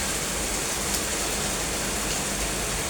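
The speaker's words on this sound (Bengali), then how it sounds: "মুষলধারে বৃষ্টি।" Heavy downpour pouring steadily outside a home, a dense, unbroken hiss of rain that stays loud and even throughout with no voices.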